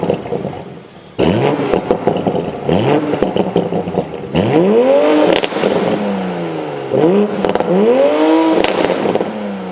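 Stock 2020 Toyota Supra exhaust in sport mode, loud and close, with repeated revs rising and falling in sweeping tones, sharp pops and crackles between pulls, and no talking.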